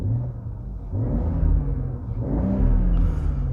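A wrecked BMW 540i engine revs up and down in a couple of throaty, rumbling swells, close and loud, with a faint whine near the end and no talking.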